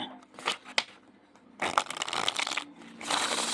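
Close-up papery riffling and rustling of a deck of oracle cards being shuffled in a few bursts, with soft scraping in between.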